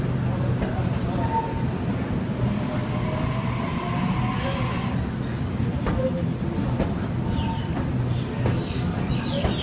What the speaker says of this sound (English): Here's the rest of A20 departing platform 2.